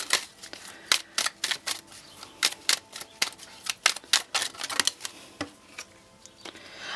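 A deck of oracle cards being shuffled and handled, giving a quick irregular run of crisp papery flicks and riffles up close, with no talking.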